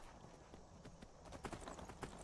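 Horse hooves clip-clop in the video game Skyrim, a quick run of hoof strikes, moderately close over a soft ambient background of the game world.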